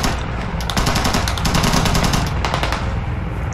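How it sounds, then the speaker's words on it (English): Sustained light machine gun fire in a war video game, a dense rapid stream of loud close shots with continuous rattling bursts and no pauses throughout. "LMG set up to the right"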